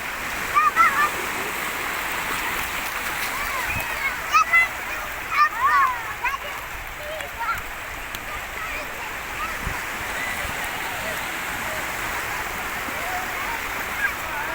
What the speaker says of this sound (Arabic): صراحه بحر واعر اليوم، يعني مهادئ، ما كاينش فيه ديك الموج بزاف.